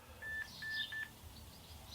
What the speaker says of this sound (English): It was my phone.